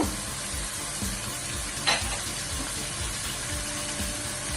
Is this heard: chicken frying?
yes